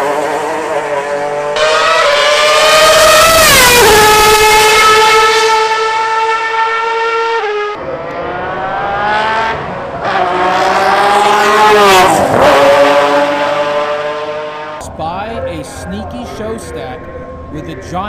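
Formula One race cars scream around a circuit in several loud passes, each high-pitched engine note climbing and then dropping away, with a quieter stretch of distant track noise near the end.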